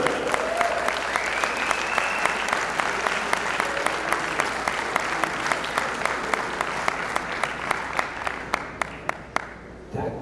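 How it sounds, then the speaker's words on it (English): A crowd applauds the arrival of former WBC welterweight champion boxer Shawn Porter, a steady roar of many hands that thins out into a few distinct, separate claps toward the end. "That applause was short."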